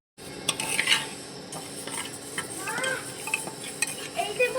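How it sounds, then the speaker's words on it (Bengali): Mung dal being dry-roasted in a pan for making pithe, with a spatula scraping and stirring the lentils in a steady, scratchy rhythm, soft light sizzling and occasional metallic clinks, fairly quiet and close. "দেখতে থাকো, মুগ ডাল ভাজা হচ্ছে।"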